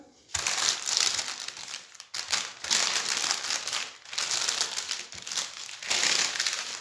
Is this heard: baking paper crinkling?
yes